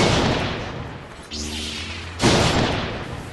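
Buckshot shotgun blasts in Blade and Sorcery Nomad with a mod installed, one sharp boom near the middle followed by a second heavy report, loud and close with no voices.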